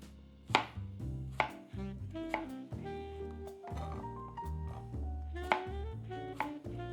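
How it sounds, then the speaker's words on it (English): A knife rough-cuts apples into cubes on a cutting board, producing a series of sharp, close chopping knocks in an uneven rhythm. "we're just going to rough cut the apples into whatever your heart tells you"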